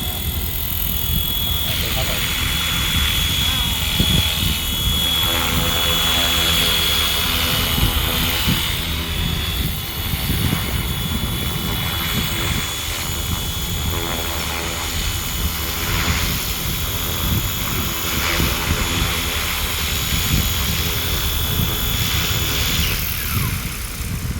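A Fly Wing FW450L large RC helicopter flying and landing, its loud continuous rotor and motor whine with a high tone dominating throughout, close by, while someone talks over it.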